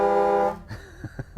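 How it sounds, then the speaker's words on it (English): A loud, steady horn blast from the air horn of a 2019 Newmar Ventana 3412 motorhome sounds for about half a second, then cuts off into quieter knocks and faint background noise. "And then you have your air horn."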